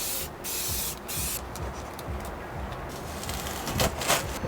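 A spray can hisses in bursts as clear coat goes onto a car tail light, several steady sprays separated by short pauses, close and moderately loud.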